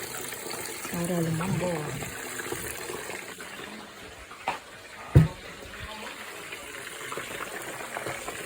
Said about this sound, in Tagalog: Lagyan ng konting sabaw.